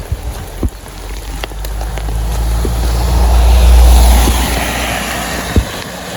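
Heavy rain falls steadily in a mountain forest on the Camino del Norte in Spain, a dense, close hiss with a deep rumble underneath and a few sharp drops or knocks.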